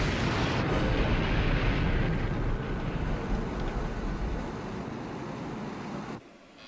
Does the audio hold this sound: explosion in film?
yes